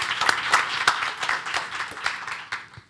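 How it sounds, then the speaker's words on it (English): Applause from the audience at a hybrid business panel session on digitalizing B2B brands, a steady round of clapping from a modest crowd with a few sharper claps standing out. "let's give a warm round of applause for our panelists of today"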